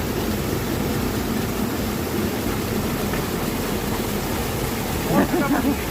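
A spring-fed stream flows at Hanna Lake in Urak, near Quetta, giving a steady, close rushing wash of water throughout, with brief voices near the end.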